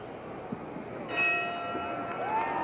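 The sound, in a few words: boxing ring bell for round one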